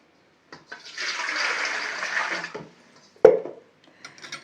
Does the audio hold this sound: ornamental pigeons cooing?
no